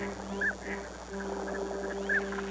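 Waterfowl call in a couple of short honking, gobbling cries over a steady low hum, fairly faint and distant.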